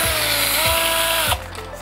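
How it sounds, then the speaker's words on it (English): An electric drill spins a motorized dry ice tornado maker built from a cement mixer metal piece with plastic spoons, giving a loud, steady whirring drone with a few rhythmic pulses before the motor cuts off and winds down. "said put it on a drill"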